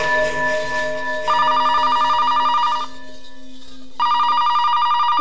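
A telephone ringing at night in a police station, loud close electronic rings in two bursts with a short pause between, over a sustained background tone; no speech.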